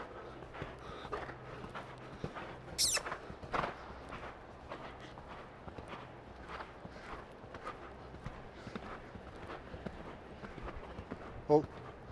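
Hooves thud in a steady rhythmic gait on soft ground in a riding arena, a young horse moving at a trot during a riding lesson, with occasional louder knocks and a rider's voice now and then.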